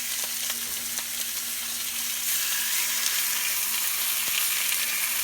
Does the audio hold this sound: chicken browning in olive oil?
yes